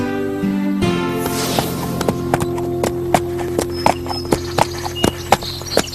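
Horse hooves clip-clop as the horse spins in place in an animated series, the sharp clicks coming in a steady, quickening rhythm, close and clear over a soft background tone with no talk.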